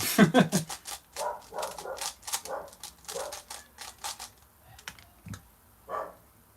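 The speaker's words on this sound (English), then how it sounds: "Oh my gosh, my dogs." Dogs bark in short repeated bursts indoors, loud and close, mixed with rapid keyboard-like clicking, with a whimper and a few lone barks trailing off.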